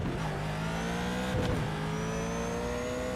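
A race car engine revs through the gears around Suzuka in a racing sim, a continuous loud whine climbing in pitch with a brief dip and shift midway, heard alone.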